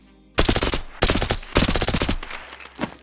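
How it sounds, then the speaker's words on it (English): A suppressed AS VAL rifle in the VR game Boneworks fires three rapid full-auto bursts, each a tight run of close, punchy shots, followed by a softer trailing shot or two. "The one thing that does sound really good on this gun, though, is the gunshots, which I love."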